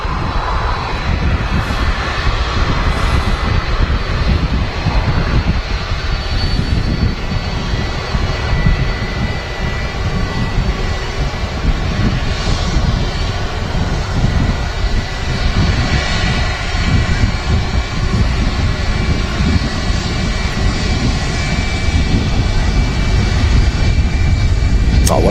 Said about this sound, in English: Oh, what a beautiful aircraft.